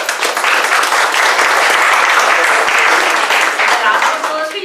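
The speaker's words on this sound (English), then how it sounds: "So can we please give a round of applause to Carlett?" An audience at a community meeting presentation breaks into sustained applause, dense clapping from many hands filling the room for several seconds before tapering slightly.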